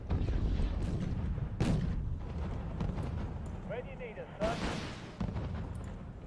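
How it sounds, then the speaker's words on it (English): Rocket pods strafing in the Wargame Red Dragon wargame: repeated rumbling blasts and booms roll through a dense, continuous barrage, with sharper bursts standing out near the start and again partway through. "Just keep strafing them with rocket pods"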